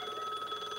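A telephone rings steadily in a quiet room, its bright electronic warble pulsing evenly for under a second with no voices over it.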